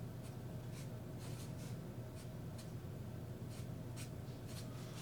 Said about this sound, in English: So we're going to go ahead and write